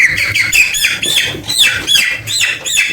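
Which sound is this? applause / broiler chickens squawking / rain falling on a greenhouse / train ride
broiler chickens squawking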